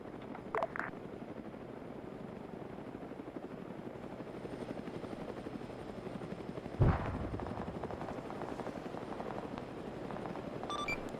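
A military helicopter in a combat video game gives a steady, loud rotor drone throughout, with a sharp thump midway and a few brief tones near the start and end.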